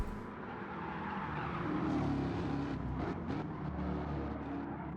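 Race cars in Gran Turismo 7 on a track at St Croix, a loud continuous engine roar that swells as cars pass, with brief tire squeal near the end and no voices.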